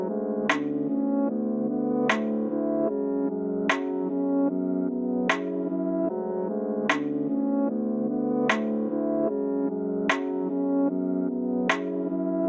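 A UK drill beat plays with a dark, sustained melodic layer while crisp rim shot clicks land at a steady interval of roughly one and a half seconds, all mixed together with no voices.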